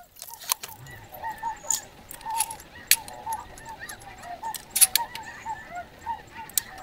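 Snow geese honking as a flock flies in over a wheat field, repeated calls overlapping in a busy, fairly close chorus over a steady low rumble.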